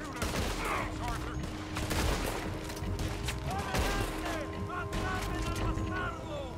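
Gunfire in Red Dead Redemption 2, rapid repeated shots and crackling volleys over a constant rumbling backdrop, fairly distant and faint, with voices talking during the shootout.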